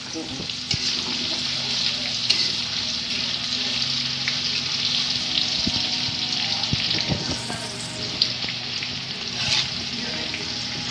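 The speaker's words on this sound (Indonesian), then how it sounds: "Tomat hijau dan tomat hijau sama bawang merah digoreng." Green tomatoes and shallots fry in oil for green chili sambal, giving a continuous, close sizzle with scattered clinks and scrapes of stirring.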